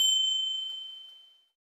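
A single bright bell ding rings out clearly, then fades away smoothly over about a second and a half, with nothing else around it.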